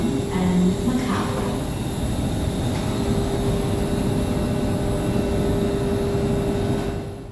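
Steady low rumble of a Sydney train at Circular Quay station, with constant rolling noise and a faint tonal hum throughout, fading slightly at the end.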